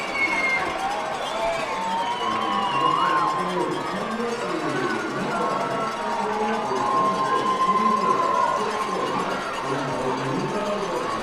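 Sold-out crowd of about 4,000 at a baseball stadium in Dunfield cheering and celebrating a home win over Batavia, a loud continuous roar of shouts and whoops with scattered cowbell-like clanks, sustained throughout.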